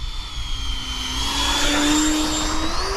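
A Freewing F/A-18 Hornet 90mm electric ducted-fan RC jet flies past with a steady high whine that rises in pitch as it passes, over a low rumbling background.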